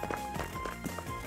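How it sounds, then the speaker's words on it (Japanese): Quick running footsteps in a video game patter in a steady rhythm against a continuous game soundscape, moderately close and not very loud. "足音入ってます。"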